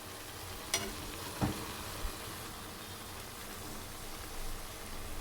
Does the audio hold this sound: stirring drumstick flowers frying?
yes